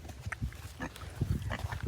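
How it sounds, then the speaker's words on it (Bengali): Pigs grunt in short low bursts at a farm mud patch where three pigs are feeding and drinking, several close grunts in an uneven rhythm with no one talking. "এটা হচ্ছে শূকর"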